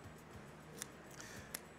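Two crisp snips from scissors cutting fish fins, close by and spaced apart, in an otherwise quiet room.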